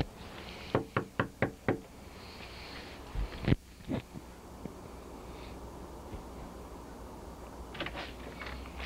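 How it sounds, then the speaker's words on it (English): Five quick, sharp knocks on a front door, close and distinct, then a pause and a couple of heavier thumps against quiet outdoor background. "we are about to knock on a person's door, completely unsuspecting"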